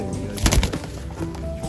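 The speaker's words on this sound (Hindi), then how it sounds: "कबूतर है, कबूतरी है।" Pigeons coo softly in short low bursts, mixed with nearby background noise and muffled voices, at the Muktsar horse fair.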